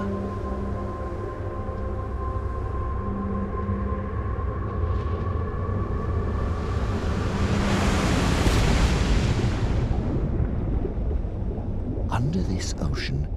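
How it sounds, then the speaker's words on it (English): Steady rain pours down on the early Earth in a VR documentary game, a broad hiss that swells to a peak and then eases, layered over a low droning music bed and narration, with a faint rumble beneath. "it begins to rain"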